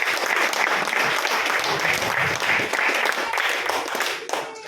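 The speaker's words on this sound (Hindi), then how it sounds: "उसके लिए एक बार आप सभी के लिए जोरदार तालियां अपने लिए" Dense, continuous audience applause at a training seminar, many hands clapping together loudly and evenly throughout, with no break.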